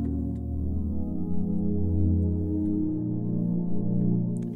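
A sustained synthesizer pad drone, warm and steady, holding a rich chord with slow swells and no talking.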